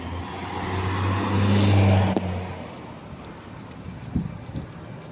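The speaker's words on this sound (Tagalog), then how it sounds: "Normal pa naman ang takbo ng mga sasakyan ngayon dito sa lugar namin." Road traffic rolls past a street near a building under construction, a car's engine and tire noise swelling loudly in the first two seconds then fading away, leaving quieter background hum with a few faint knocks.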